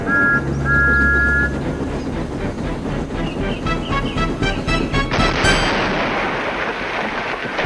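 A steam engine racing too fast down a hill with a heavy train behind it, a loud rumbling run with hissing and a whistle-like tone partway through, no voices.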